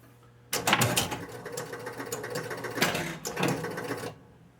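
A Spirit of 76 pinball machine cycles after reset is pressed, a burst of rapid mechanical clattering and relay clicks that starts abruptly, runs close and loud for about three and a half seconds with a brief dip partway, then stops.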